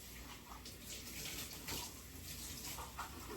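Tap water runs into a measuring cup in a home kitchen while an apple strudel is being made, a soft, steady faucet stream heard faintly and alone.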